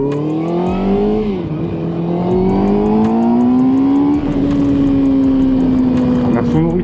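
A Kawasaki ZX6-R sport motorcycle with its stock exhaust accelerates through the gears, its engine note climbing, dropping briefly at a shift and climbing again, loud and sustained under wind roar, with a voice talking over it.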